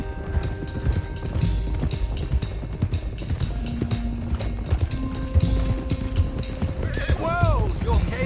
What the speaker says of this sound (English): let's get these horses to Clemens Cove quick before we run into any more trouble